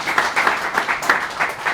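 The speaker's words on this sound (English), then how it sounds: "So big clap for that." Clapping from a small audience at a public-services community meetup, a brief patter of hands in loose, uneven bursts, close and fairly loud with no talking over it.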